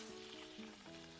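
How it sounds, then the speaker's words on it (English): Beef browning in batches in hot oil for a Pyrenean beef stew, a soft continuous sizzle and fry heard close up and alone. "Brown the beef in batches, 2 to 3 minutes per side."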